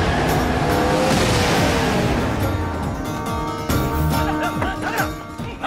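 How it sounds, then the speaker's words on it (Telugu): A car approaches in a Telugu comedy film scene, its engine roaring loudly and steadily with tire squeals and skidding toward the end, and no voices. "రాజుగారి కారు వస్తుంది, వెళ్ళండి."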